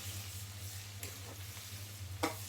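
Green chillies and onion fry in a pan with a soft, continuous sizzle close by, and two brief stirring scrapes cut through it.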